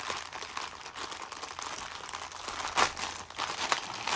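Plastic parts bags from a MocPixel Short Circuit Johnny 5 building kit crinkle and rustle up close as they are opened, in a steady stream of crackly handling noise with a few louder crunches and no talking.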